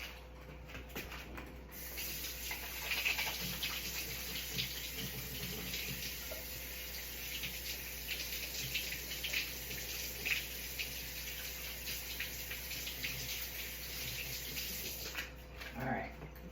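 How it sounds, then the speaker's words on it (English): Hands rinse under a running kitchen tap while short ribs are prepared, a soft steady stream of water hissing for most of the stretch, starting and stopping abruptly, with faint background noise. "let me just rinse my hands off"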